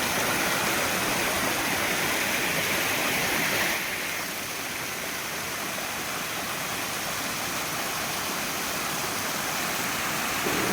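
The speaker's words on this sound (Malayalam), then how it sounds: "നല്ല രീതിയിൽ ജലം വന്ന് മറിയുന്ന ഒരു സ്ഥലമാണ്" Water cascades over rocks at Ambanad Hills in Kollam district, a dense, steady, roaring rush that fills the scene at close range without a break.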